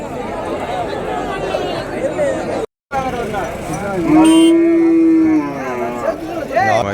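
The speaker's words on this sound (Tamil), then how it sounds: "வண்டி மாடுங்க கொஞ்சம் வந்துருதுங்க நிறையவே வந்துருது" A draught bullock lets out a long, loud moo amid the chatter and babble of a busy cattle market crowd at Uthangarai.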